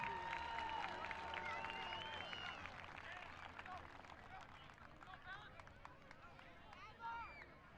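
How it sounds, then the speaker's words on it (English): Crowd at a high school football game applauding and cheering for the Elkins cheer team, a steady broad wash of clapping that starts loud and slowly thins, with scattered voices and a faint tone early on. "Let's have one big round of applause for your Elkins cheer team."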